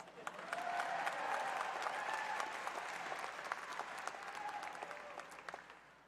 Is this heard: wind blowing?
no